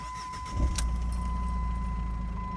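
Jeep Liberty CRD diesel engine cranking and catching after an ECU replacement, a short start burst settling into a steady close idle with a faint jingle of keys.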